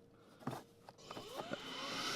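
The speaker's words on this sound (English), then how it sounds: "Right here is your vacuum system." The built-in vacuum of a 2021 Chrysler Pacifica Limited AWD minivan starts up with a few handling clicks, then a steady rising whoosh of suction that fills the rest of the moment, fairly quiet and heard alone.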